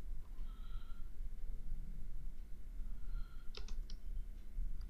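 Someone types code on a computer keyboard, with light, close key clicks coming in short bursts over a steady low hum, no voices.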